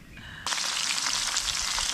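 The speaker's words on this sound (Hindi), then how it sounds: "पनीर बढ़िया फ्राई हो रही है" Paneer sizzling and frying in a pan outdoors at a windy Uttarakhand campsite, a loud, steady crackling hiss that bursts in after a short quieter moment and continues close up without any talk.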